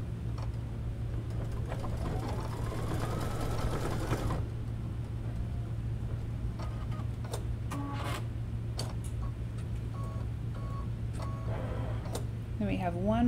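A sewing machine tacks layered 3D organza flowers in a single run of about four seconds that rises in pitch, then stops, leaving a steady low hum in the room.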